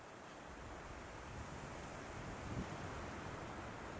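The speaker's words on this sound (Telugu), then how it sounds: "గాలి ఖచ్చితంగా." A soft, steady rush of wind blows continuously, faint and broadband, with a low rumble and no voices.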